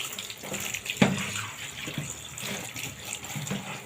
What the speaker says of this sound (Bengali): লাউ পাতাগুলো আমি একটু ধুয়ে নিচ্ছি, বাজার থেকে এনেছি কালকে।